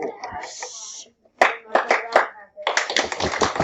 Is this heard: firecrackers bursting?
no